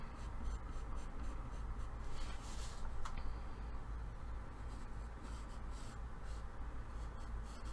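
A pencil sketches a great white shark on paper, with soft, close scratching strokes in a steady rhythm and one sharper tap partway through.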